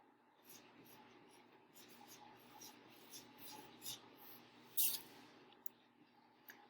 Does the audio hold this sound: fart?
no